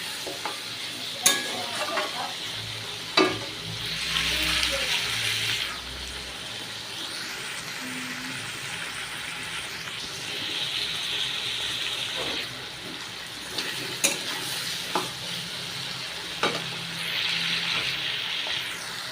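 Small-cut potato pieces fry in oil in a pan with a soft, steady sizzle, broken by occasional clinks and scraping stirs of a utensil and brief watery swishes.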